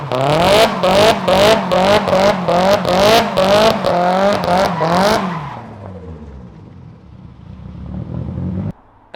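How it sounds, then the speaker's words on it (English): A Nissan 180SX (S13) on new tyres does a burnout: the engine revs hard in rapid pulsing bursts for about five seconds, then falls back to a rough idle and quiets, with a short thump at the end. "It's burnout time."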